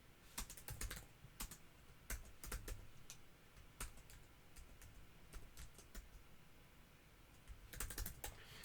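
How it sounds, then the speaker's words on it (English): Keys on a computer keyboard tap irregularly in scattered clusters over a steady background hiss, very faint and distant-sounding, with no speech. "Let's type it out again."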